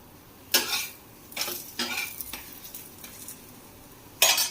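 Besan and suji chilla batter cooking on a hot griddle in Sindhi style, heard as a few distinct scraping and stirring strokes with a soft sizzle underneath, a sharper scrape closing it out.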